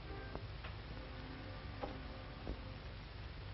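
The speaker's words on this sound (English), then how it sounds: "Here's my alarm clock." An alarm clock ticks faintly in a bedroom, a few soft irregular clicks heard over a hissy, muffled old film soundtrack.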